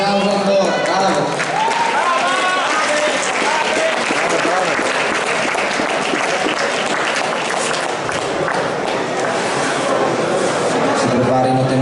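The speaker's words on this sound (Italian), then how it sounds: "un bel applauso ancora" An indoor crowd applauds the athletes after a combat sports final bout in Milan, sustained loud clapping with an announcer's voice over it.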